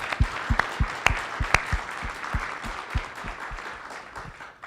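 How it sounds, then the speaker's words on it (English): Audience applause at a closing-remarks session of a data transparency conference, a moderate crowd clapping with distinct individual claps standing out close by, steady for several seconds without speech. "I want you to think about that and applaud."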